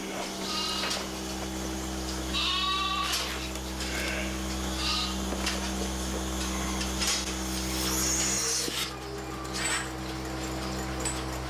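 Goats bleat on a farm with a herd of over 280 animals, a few nasal calls rising near the middle over a steady low hum and rustling background.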